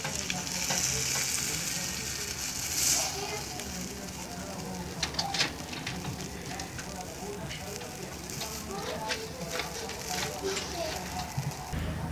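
Dark beer with a chocolatey note sizzles in a pan of bratwurst, a steady close frying crackle with scattered pops. A faint voice murmurs now and then underneath.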